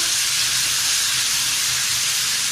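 Mutton frying (bhuna) in a pot for a whole-spice gosht stew gives a loud, steady broadband sizzle and hiss that stays even throughout with no talk.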